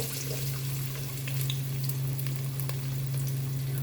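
Diced onion sizzles steadily in a mix of ghee and oil, a constant close frying hiss with faint stirring scrapes, heard alone without talk.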